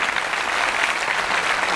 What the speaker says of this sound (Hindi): आपकी तालियों का शोर इस बात की तायद करेगी